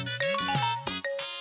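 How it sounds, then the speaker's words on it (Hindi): Mobile phone ringtone for an incoming call in a Hindi TV serial scene, a bright repeating electronic melody of tonal notes, loud and close, playing alone without talk. "देखो तो सत्या जीजू कॉल कर रहे हैं।"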